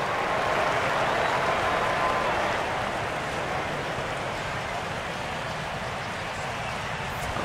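Stadium crowd in the MLB 12: The Show baseball video game, a dense, steady roar of cheering and applause from a crowd of over 39,000, loud and sustained throughout, easing slightly after the first few seconds.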